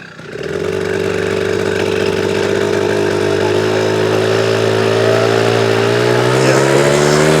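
A bus engine gives a loud, steady drone while driving, its low hum rising slightly in pitch toward the end.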